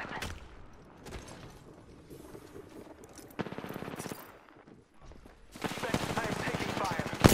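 Video game gunfire sounds in bursts of rapid automatic shots, quiet at first and growing louder and denser toward the end, with a voice speaking in between.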